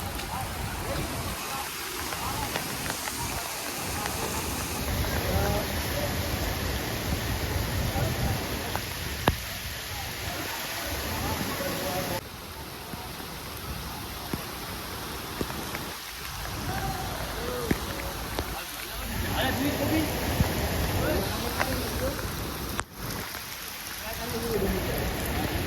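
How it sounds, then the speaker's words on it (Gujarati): Heavy rain pours outside onto a lane filling with water, a dense steady roar of drops lasting throughout with occasional sharper splashes and a faint rumble, no voices. "બાર વરસાદ ચાલુ હતો"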